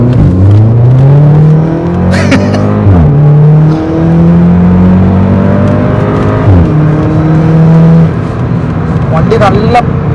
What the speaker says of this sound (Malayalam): നമുക്ക് ജസ്റ്റ് ഇതിൻ്റെ ആക്സലറേഷൻ കൂടെ നിങ്ങൾക്കൊന്ന് കാണിച്ചു തന്നിട്ട് ബാക്കി കാര്യങ്ങൾ പറയുന്നതായിരിക്കും നല്ലത്